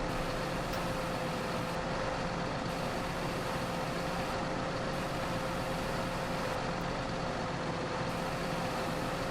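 A big tractor engine in the Farming Simulator 2013 video game drones continuously at close range, a steady loud rumble with a faint constant whine on top and no voices.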